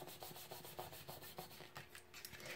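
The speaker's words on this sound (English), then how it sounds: "Give that a good rub." Craft paper pieces rubbed together while making a Halloween mini album, a quiet repeated scuffing and brushing in a quick back-and-forth rhythm, close and faint.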